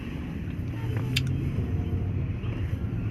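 Audi A8L with a 6.3-litre W12 twelve-cylinder engine starting and pulling out of a garage, a steady low rumble with a brief sharp click near the middle.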